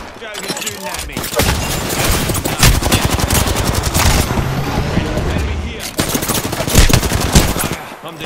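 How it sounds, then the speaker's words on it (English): Dense automatic gunfire from an Apex Legends match, rapid bursts of shots rattling almost continuously and loudly close by, with brief pauses between volleys, game announcer voices and player chatter underneath. "Joe, you're shooting at me."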